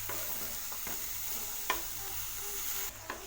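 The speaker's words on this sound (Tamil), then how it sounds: "ஆட் பண்ணி இந்த மசாலாவோட பாவக்காய் நல்லா மிக்ஸ் பண்ணி விடுங்க." Half-cooked bitter gourd is stirred into masala in a frying pan, a steady sizzle with a few scraping strokes of the spoon close by and no voices.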